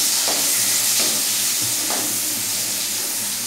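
Garlic, shallot and chili sambal frying in a pan, a steady close sizzle and hiss with a few soft stirring scrapes spaced through it.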